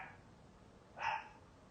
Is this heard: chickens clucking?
no